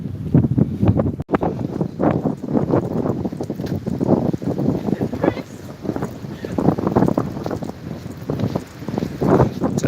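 Strong gusts at Härlanda Tjärn lake in Gothenburg, Sweden, buffet the microphone with loud continuous rumbling wind noise that surges and drops across the whole stretch.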